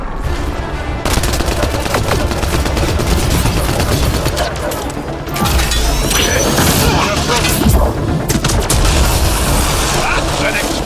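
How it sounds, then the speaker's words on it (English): Explosions and heavy gunfire from a Mass Effect: Andromeda firefight rage loud and continuous, with bursts of automatic fire and booming impacts under shouted dialogue and a dense battle score. "That's an explosion!"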